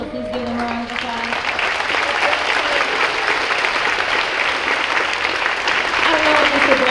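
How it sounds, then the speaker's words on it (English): Audience at a high school spring pops concert breaks into steady applause, a thick continuous clapping that stays loud throughout, with a voice faintly audible at the start. "so please give them a round of applause"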